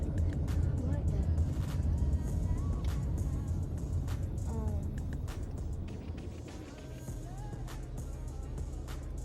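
Steady low road rumble and engine drone inside a moving car, constant throughout with faint clicks and a brief squeak, and occasional talk in the cabin.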